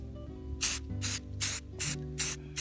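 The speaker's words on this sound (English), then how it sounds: "We're going to get our paint, and we're going to go ahead and hit this side with a pretty good coat as well." Aerosol spray paint coats a part from a 2013 Dodge Dart R in six even, loud bursts of about half a second each, evenly spaced, with only faint background hum in the gaps and no talk.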